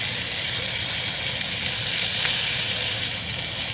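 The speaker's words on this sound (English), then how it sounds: "Just want to keep the celery root stirring at the same time." Diced celery root sizzling in a pan over medium heat while being stirred, a steady, close, bright hiss that holds unbroken throughout.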